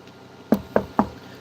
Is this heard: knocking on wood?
yes